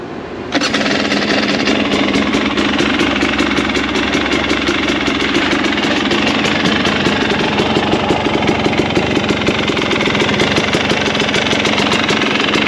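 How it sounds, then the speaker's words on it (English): A 2022 KTM 300 XCW two-stroke TPI dirt bike engine fires up and settles into a steady, close, loud idle with a rapid buzzing rhythm that runs on without pause. "Let's start it up and listen to it."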